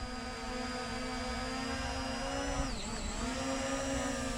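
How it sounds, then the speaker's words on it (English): A RUKO F11 PRO camera drone lifts off and flies, its rotors giving a steady, close, high-pitched whine with a constant buzzing drone that dips briefly in pitch partway through, then settles back, with no talking. "Start the motor, and then you hit takeoff, Fly, and it takes off."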